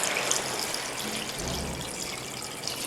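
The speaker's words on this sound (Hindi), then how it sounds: "ये देखिए ये हमारा पानी चला गया है इसमें" Water pours into a pot of beef stew (dopiaza), a steady splashing rush with a brief lower gurgle partway through, close and fairly loud without speech.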